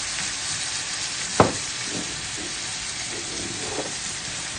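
Food and white wine sizzle in a very hot pan, a continuous close hiss with one sharp clack from a utensil partway through and faint stirring scrapes.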